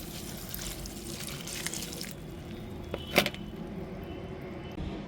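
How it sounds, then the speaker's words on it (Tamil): Water is poured onto a compost pot mulched with dry leaves on a terrace garden, a soft rushing splash for about two seconds followed by light trickling and a single knock. "தண்ணி ஊற்றிடலாம்"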